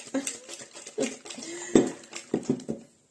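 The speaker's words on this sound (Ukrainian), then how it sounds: "Дуже не потрібно розмішувати, а так, трішки, щоб розійшлись яйця з цукром" Eggs and sugar are gently stirred in a bowl for kefir crescent dough, heard as a series of light, irregular clinks and scrapes of utensil against dish, close and fairly quiet.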